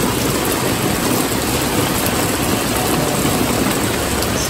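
Heavy rain pours down during a thunderstorm, a dense, loud and unbroken hiss of drops beating on surfaces from start to finish, with no voices present.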